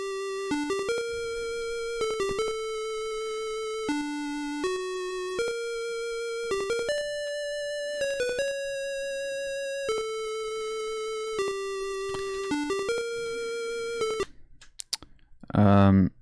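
Ninja Gaiden NES chiptune music plays alone, square-wave melody notes each struck then repeated slightly quieter for an echo effect, over a steady bass line, ending with a brief rising noise burst.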